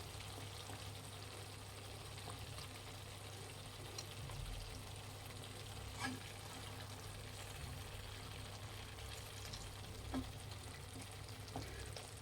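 Boiled eggs frying in masala in a pan over a medium flame, a steady low sizzle and bubbling with a few faint stirring clicks and scrapes, close and continuous, with no talking.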